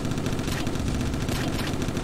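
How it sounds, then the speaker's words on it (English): Sustained, dense rattle of rapid minigun fire in the Attack On Toys video game, army-men battle with a steady roar that keeps up without break. "Use the minigun! Get him!"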